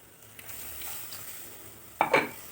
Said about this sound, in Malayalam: പുളി ഒഴിച്ച് നന്നായിട്ട് ഇളക്കി കൊടുക്കുക